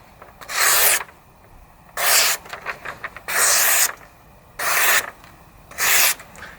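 Five long, even slicing strokes from an MKM Arvenis folding knife with a factory-sharp blue M390 blade, each a bright, hissing rasp of about a second, separated by short pauses and a few faint scraping taps, close and without talk.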